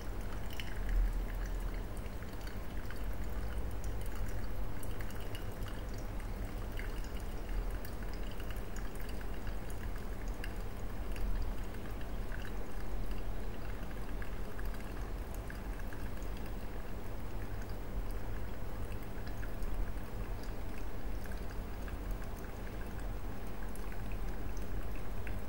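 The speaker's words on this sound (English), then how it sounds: "Then we'll slowly add the rest of the water." Water is poured slowly into an inverted AeroPress with coffee grounds, a faint, continuous trickle over about twenty-five seconds under low room noise, with no speech.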